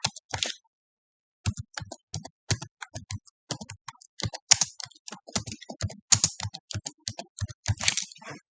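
Someone types on a computer keyboard while entering a title into linear-programming software: close, crisp key clicks in quick bursts, with a brief pause after the first flurry and no talking.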